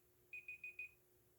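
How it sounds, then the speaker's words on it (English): A timer alarm goes off with four quick, evenly spaced electronic beeps, quiet and on its own over a faint background hum. "Oops, there goes my timer."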